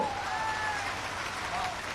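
A crowd at a political rally with the chief minister present applauds continuously, a dense wash of clapping with a voice briefly heard over it.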